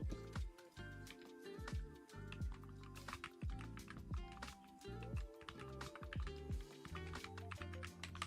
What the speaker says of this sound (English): We're gonna do some more typing practice